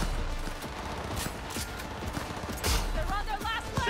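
Gunfire rattles through a firefight in the video game Cyberpunk 2077, with steady bursts of shots and explosions layered over continuous loud game noise.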